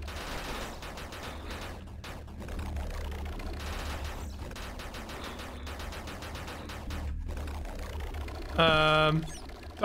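Rapid, sustained gunfire from a gun in the video game God Damn The Garden, dense bursts running almost continuously, with a louder tonal sound near the end.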